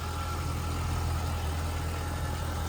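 A 2002 Chevrolet Corvette's LS1 V8 engine idles with a steady, low rumbling drone, close and constant throughout, with no voices.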